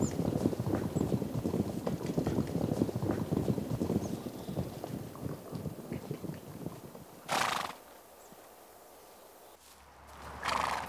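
Akhal-Teke stallion's hooves clip-clopping, a brisk rhythmic run of close hoofbeats that fades away, followed by short whinny-like bursts and quieter gaps.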